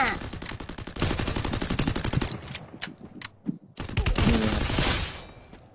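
Rapid gunfire from the mobile battle-royale game Free Fire, with bursts of automatic machine-gun fire and scattered single shots, a brief lull in the middle, then more sustained firing.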